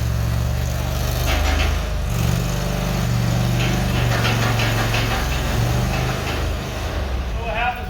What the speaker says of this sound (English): The skid steer.